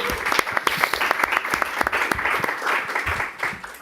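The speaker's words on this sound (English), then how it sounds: "a big round of applause to our partner organizers" Audience applause for partner organizers at a youth climate adaptation event, a room of people clapping with sharp individual claps standing out against a steady patter throughout.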